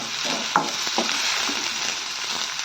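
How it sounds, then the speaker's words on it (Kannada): Curry leaves dropped into hot oil in a frying pan already holding mustard seeds, chillies and onion, giving a steady close sizzle with a few sharp crackles and pops near the start. "ಇವಾಗ ಕರಿಬೇವಿನ ಸೊಪ್ಪು ಹಾಕ್ತಾಯಿದ್ದೀನಿ"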